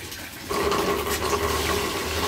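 Water pours steadily into a container while liquid fertilizer is being mixed, a dense continuous splashing rush that starts after a brief pause and stays close and even.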